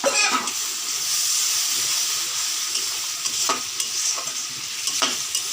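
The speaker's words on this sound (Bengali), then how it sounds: "মশলাটা কষিয়ে নিব ভালো করে।" Spice paste with chopped tomato frying in a pan for fish kalia, a steady loud sizzle and hiss with a few scraping stirs of a spatula throughout.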